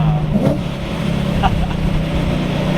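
Supercharger blower whine from a modified BMW E92 M3 while driving, a steady engine drone under road and wind noise, with people talking over it.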